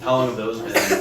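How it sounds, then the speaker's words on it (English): A single short cough breaks in near the end of a stretch of conversation, close and fairly loud against the ongoing voices. "That was a cough."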